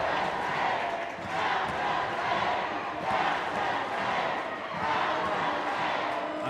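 A large high school basketball crowd at a state tournament game chants in rhythmic swelling waves, loud and sustained throughout.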